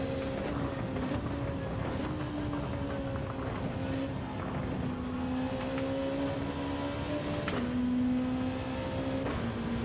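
Sustained race car engine drone in a racing video game, its pitch rising and falling steadily through gear changes over roughly ten seconds, fairly loud and continuous with no talk.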